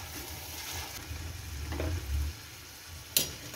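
Onion frying in oil in a pan for mote de queso: a soft, steady sizzle under a low kitchen hum, with a brief utensil clink near the end and no talking.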